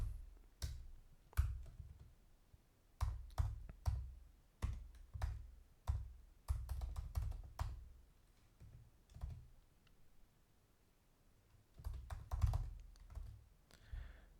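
A computer keyboard is typed on in bursts of quick, close clicking keystrokes, separated by short pauses. The sound is quiet and there is no talking.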